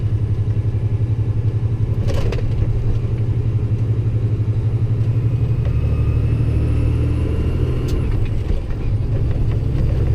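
A truck engine with a 13-speed transmission runs steadily and loud, a close rumbling drone that dips and shifts as gears are split, with faint clunks and rattles.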